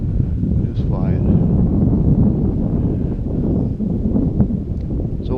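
Strong wind buffets the microphone in a steady roar outdoors during a windy-day flight of an E-flite DHC-2 Beaver RC plane, with a person talking under the gusts.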